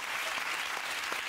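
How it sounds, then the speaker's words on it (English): Studio audience at a television talk show breaks into applause, a short, even wash of many hands clapping at fairly low level, steady throughout. "Don't applaud this."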